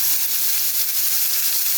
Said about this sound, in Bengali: এবার দিলাম কাঁচকলাগুলো